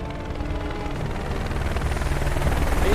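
A helicopter in the video game Final Fantasy VII Remake thrums with a steady low rotor chop, holding a close, even drone that swells slightly toward the end.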